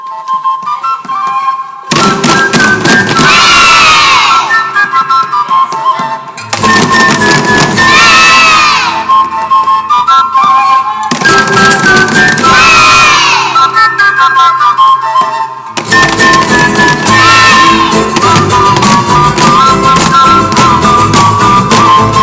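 A carnival crowd, Carnaval de Arequipa, cheers and shouts for children in loud bursts with whistles, separated by short music-like pauses, over several long stretches.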